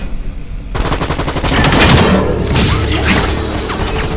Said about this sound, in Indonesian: Siapa tuh yang nembak?